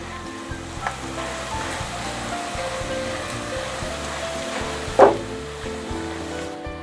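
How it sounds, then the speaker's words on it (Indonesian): Anchovies frying in hot oil in a pan as they are stirred continuously, a steady crackling sizzle throughout with light scraping, a brief louder clatter near the end, and soft music underneath. "Ikan terinya saya goreng dulu ya. Digoreng sampai kering, tapi jangan sampai gosong ya. Sambil terus diaduk-aduk supaya matangnya bisa merata."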